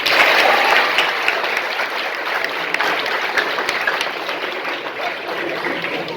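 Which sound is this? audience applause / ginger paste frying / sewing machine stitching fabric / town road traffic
audience applause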